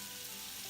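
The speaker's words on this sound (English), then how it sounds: "You can hear it sizzle." Sausage sizzles in garlic-infused olive oil in a soup pot, a steady, faint crackling hiss with no pauses over a brief moment.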